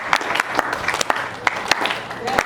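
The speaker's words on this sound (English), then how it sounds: "Start clapping." A convention audience at a Florida state event claps along to a song, loose sharp claps at uneven intervals over a busy room, with voices talking throughout.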